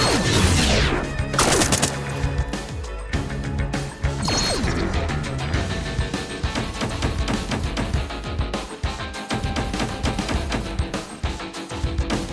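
Dense, loud gunfire and explosive crashes from a military battle in the video game Warborn, with bursts of rapid shots and heavy impacts filling the whole stretch without pause.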